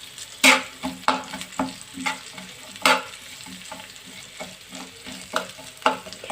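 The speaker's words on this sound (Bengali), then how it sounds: "এখন এটাকে খুব সুন্দরভাবে ভাজতে হবে।" Chopped green chillies, onion and garlic fry for a dried fish bhuna, with a soft sizzle broken by irregular spatula scrapes and taps against the pan, close and without voices.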